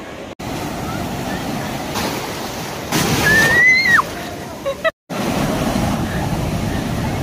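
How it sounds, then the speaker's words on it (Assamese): Surf washes steadily onto Radhanagar beach on Havelock Island in the Andaman Islands, crowded with people, a continuous broadband roar with short breaks. A brief whistle-like tone and faint voices rise above the water partway through. "কি ডাঙৰ ঢৌ আহিছে"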